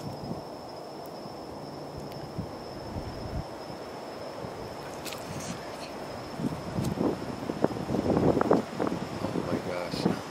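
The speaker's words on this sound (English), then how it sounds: "Sorry about the wind as well" Wind buffets the microphone outdoors at night near an abandoned place, a low steady rumble that swells into louder gusts with rustling toward the end.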